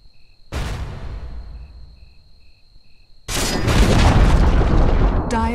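Dota 2 tower being destroyed in a match: a heavy boom with a long fading rumble, then a louder, sustained crashing burst of rubble, with faint game tones in the background.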